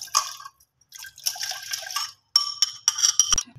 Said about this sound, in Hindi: इसको गिलास पानी जो है इसको सॉस पैन में डालते हैं